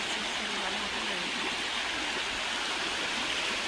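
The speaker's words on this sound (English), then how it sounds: "at the river behind her house." A river flows steadily behind a house, giving a continuous rushing, gurgling wash of water that stays close and fairly loud throughout with no talking over it.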